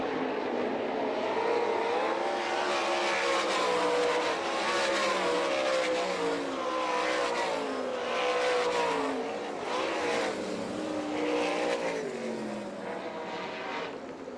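Sprint cars racing in an All Star Circuit of Champions event at Hartford, Michigan, give a loud, continuous engine roar with rising and falling pitch as cars sweep past, layered pack noise with no voices.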